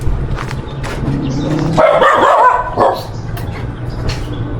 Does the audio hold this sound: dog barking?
yes